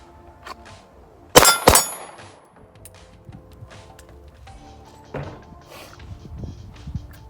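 Two sharp, loud reports from a Canik TP9 Elite SC pistol fire in quick succession at an outdoor range, followed by a quieter metallic clank and faint handling noises.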